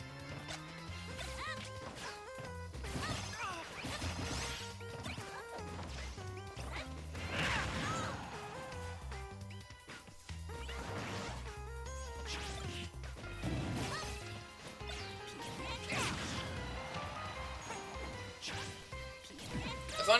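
Ness and Lucas unleash their final smash in Super Smash Bros Ultimate, a barrage of repeated crashing impacts and whooshes over steady game music, moderately loud and continuous throughout.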